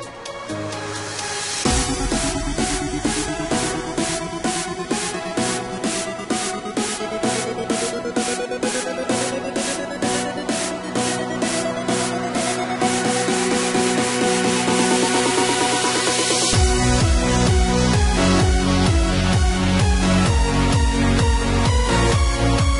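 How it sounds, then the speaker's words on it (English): An electro house track, a fusion of electro and house, plays loud and dense, with a fast pulsing beat and a rising synth sweep that builds for about fifteen seconds before the full beat drops in. "That particular piece was electro house, and as its name states, it's a fusion of electro and house,"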